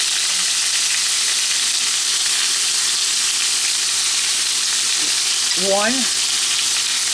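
A pan-cooked alcapurria filling sizzles and hisses continuously as it is stirred while sofrito and achiote oil are added, with a brief voice near the end.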